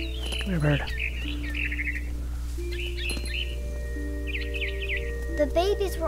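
Small bird chirping in the game What Remains of Edith Finch, with short bright tweets and trills repeating over a steady low game hum, a voice talking underneath.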